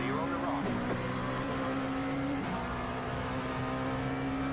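An LMP2 race car in iRacing at Watkins Glen, its steady engine drone running throughout, with sudden pitch drops as the car upshifts twice.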